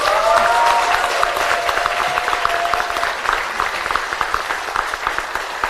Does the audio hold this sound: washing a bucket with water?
no